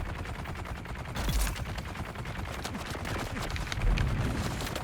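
Gunfire crackles in a Dune: Awakening combat fight inside a lab, with fast bursts of shots and a few heavier booms over continuous action noise at moderate loudness. No voices are heard.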